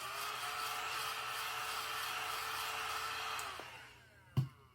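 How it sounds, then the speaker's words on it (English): A small vacuum cleaner runs with a steady whirring hum, then winds down near the end, followed by a brief low thump. "We're gonna vacuum this off real quick."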